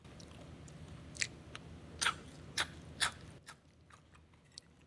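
Crunchy seasoned snack bites are chewed close up, giving four or five sharp crackling crunches in quick succession and then softer chewing that fades out.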